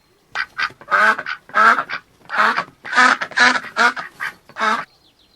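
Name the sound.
duck quacking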